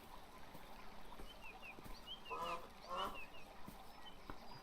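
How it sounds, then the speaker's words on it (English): Ducks in the video game Beyond Eyes give repeated honking quacks in short bursts over a steady background of flowing water and ambient noise, loud and close in the mix. "But the ducks are still fucking loud."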